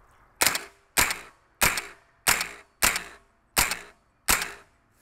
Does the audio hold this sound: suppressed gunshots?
yes